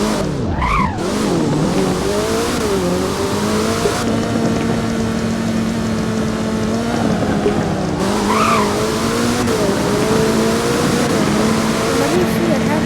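A Koenigsegg in the video game Driving Empire drives with a continuous engine drone that rises and shifts in pitch, punctuated by short tire squeals, loud and close throughout.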